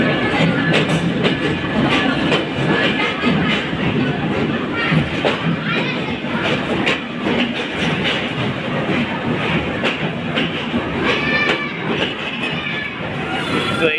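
American-built 66-series locomotive hauling the Intercity Sundarban Express into a station, a continuous rumble and clickety-clack of wheels heard close by with repeated clanging tones and a crowd murmuring around it.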